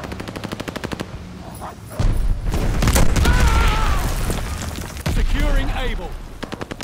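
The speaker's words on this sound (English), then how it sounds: "Mortars incoming." Explosions and rapid gunfire fill a Call of Duty: Vanguard match, with heavy booms rolling in around the middle and a voice talking over the din.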